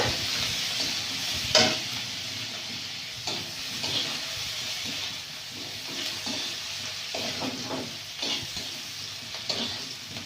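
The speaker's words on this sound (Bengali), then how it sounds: "পেঁয়াজটা ভাজা ভাজা হয়ে গেছে" Chopped onions frying in a pan with black cumin seeds in a village kitchen, giving a steady, loud sizzle with repeated stirring scrapes throughout and no voices.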